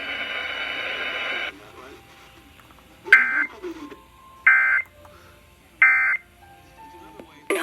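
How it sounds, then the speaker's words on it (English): Emergency Alert System test signalling on a broadcast: after a noisy opening burst, three short, loud electronic warbling data bursts repeat at even intervals, separated by quiet gaps. "If there's been an actual emergency, official messages will follow this alert tone."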